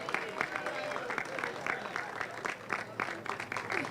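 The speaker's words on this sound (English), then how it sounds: "Let's give them a second round of applause." Applause at a school ribbon cutting ceremony for School Without Walls, a steady crowd clapping with dense, even rhythm that stays fairly constant throughout, with some voices mixed in.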